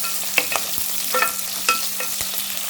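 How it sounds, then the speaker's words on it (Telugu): Okra with asafoetida being stirred in a hot pan, a spoon scraping and clinking in irregular strokes over a soft, steady sizzle, close and clear with no talking. "ఇందులోనే కొంచెం ఇంగువ కూడా వేసేసి కలిపేసుకుందాం."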